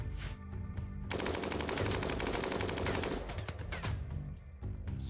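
Sustained rapid automatic gunfire from the video game New Colony rattles loud and dense for several seconds, with overlapping weapons firing in fast bursts before easing off near the end.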